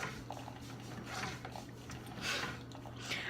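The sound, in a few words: coffee machine making cappuccino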